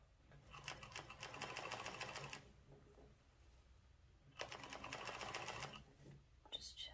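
Sewing machine slowly stitching the hem of baseball pants, two sustained bursts of fast, even needle chatter close by, separated by a short quiet pause.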